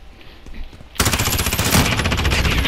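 Gunshots from the Call of Duty Modern Warfare video game: after a quiet start, a rapid burst of automatic fire erupts loud and close, rattling on continuously for nearly two seconds.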